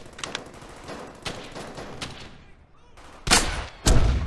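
Rapid gunfire in the video game Hell's Highway: faint repeated shots through the first seconds, then two loud, heavy blasts close together at the end.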